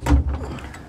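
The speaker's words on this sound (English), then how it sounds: "shut the door" The door of an Alu Cab cabin on an overland Toyota Tundra is shut with a single solid thump near the start, followed by a short rattling settle.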